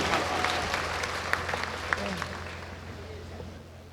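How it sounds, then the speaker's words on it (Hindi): Moderate audience applause at a mushaira poetry gathering in Deoband, a scattered crowd clapping over a steady low hum from the sound system, with a few crisp individual claps that gradually die away. "एक बार जोरदार तालियों से आप उनका इस्तकबाल कीजिए।"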